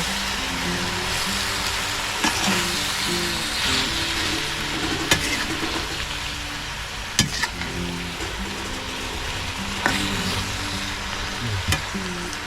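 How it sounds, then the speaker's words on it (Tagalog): Food sizzles steadily in a pot while a utensil stirs it, with occasional sharp scrapes and clanks against the pot, close and continuous. "Haluin ko muna."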